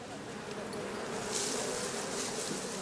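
A swarm of honeybees in Berlin being captured by a beekeeper, giving a steady, dense buzzing hum that holds throughout at moderate loudness with no talk.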